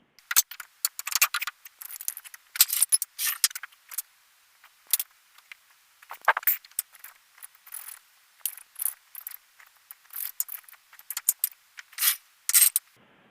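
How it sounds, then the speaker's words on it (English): Parts being bolted onto a homemade lathe duplicator: close, sharp ratcheting clicks and metallic ticks come in quick irregular clusters, broken by brief silences. "so now let's bolt it on."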